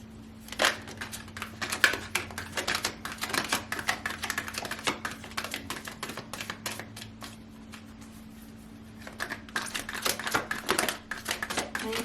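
Tarot cards are shuffled close up in a long run of quick riffling, slapping strokes, pausing briefly midway before the dense flutter starts again.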